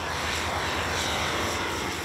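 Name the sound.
small propeller airplane in flight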